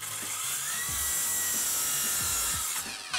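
A cordless circular saw from China cutting through wood, a loud continuous whining buzz near the microphone with rough grinding as the blade meets a nail.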